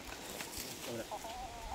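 Farm chickens cluck in short bursts, moderately near but fairly faint, with people talking in the background.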